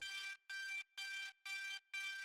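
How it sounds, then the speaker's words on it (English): A bright synthesized siren-like tone for a tech-house track plays in five evenly spaced bursts, each about a third of a second, dry and clean with nothing else. "So we have this siren type of sound"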